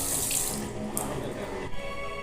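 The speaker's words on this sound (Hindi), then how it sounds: "ये ऑटोमेटिक है पानी वाला।" Automatic water tap in a cinema washroom during the interval, running steadily with a close, continuous hiss of water hitting a sink basin, unbroken throughout.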